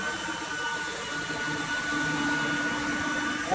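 A 1986 Oreck XL 100C upright vacuum cleaner motor runs steadily, a loud continuous whine with a constant droning hum that holds evenly from start to finish.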